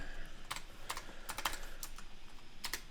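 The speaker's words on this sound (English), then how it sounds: "So we're going to want to type in the project ID." Keys tapped on a computer keyboard while entering a project ID into the Google Cloud command line, a few short bursts of clicks spread irregularly over a few seconds with no talking.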